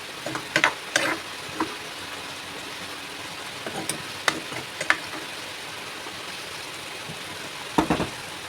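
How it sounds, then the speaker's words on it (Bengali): Bottle gourd curry with radhuni paste simmers and sizzles softly in a pan, a steady low hiss broken by a few sharp utensil clicks and scrapes. "একটু সিদ্ধ হোক লাউগুলো, তারপরে মাছের মাথা দিয়ে দেবো।"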